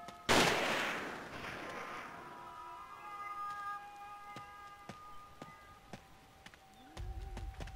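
A gunshot rings out in the horror game Forbidden Siren, one loud crack with a long ringing tail, followed by fainter scattered clicks and tones and a low rumble near the end.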